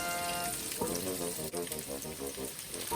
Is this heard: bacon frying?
yes